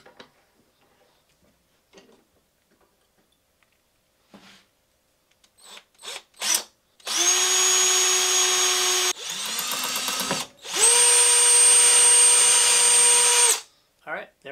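A power drill runs in two long, loud bursts with a brief pause between, its motor whining steadily, preceded by scattered clicks and handling knocks, drilling a workpiece clamped in a vise.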